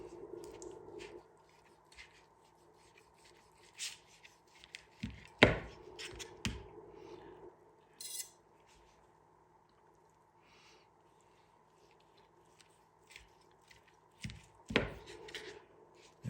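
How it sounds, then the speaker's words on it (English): A knife works through a bacon-wrapped pork tenderloin stuffed with green chili and cheese, giving sparse, close cuts and a few sharper board knocks separated by quiet gaps, with no talking. "Let's cut into it and see what we got inside."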